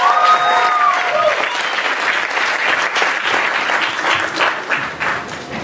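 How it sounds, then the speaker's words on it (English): Sustained applause fills the room for a poet being welcomed onto a stage at a reading, with dense clapping from a large audience and crowd noise staying loud throughout before easing slightly toward the end. "Clap for Sadie"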